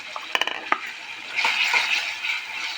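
Garlic, green chili and cumin paste is dropped into a pan and fried, a few clanks and stirring scrapes early on, then a steady close sizzle that swells and settles.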